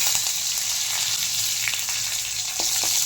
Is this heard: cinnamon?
yes